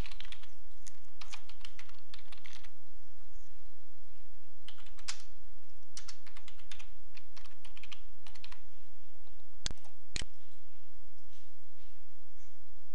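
Typing on a computer keyboard to fill in account sign-up details, quick irregular bursts of close key clicks with short pauses and a couple of sharper taps near the end, no talking.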